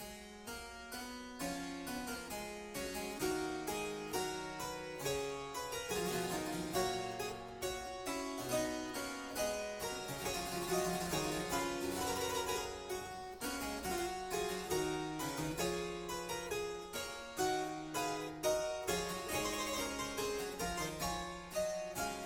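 Bach's Goldberg Variations, variation 30, the quodlibet, played as dense keyboard counterpoint with steady, continuous note attacks at moderate loudness, alone without voices.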